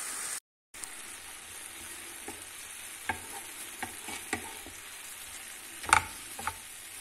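Minced meat mixture with olives and coriander being sautéed and stirred in a pan for a panini filling, a soft continuous fry with scattered utensil scrapes and taps, one sharper clatter near the end.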